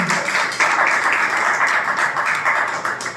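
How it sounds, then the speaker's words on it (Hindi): An audience at an open mic event applauds, a dense, even patter of many hands clapping at moderate volume for a few seconds, with no voice over it. "एक बार जोरदार तालियां हो जाए"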